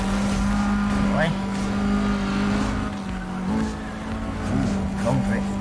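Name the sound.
car drifting in Need for Speed Undercover video game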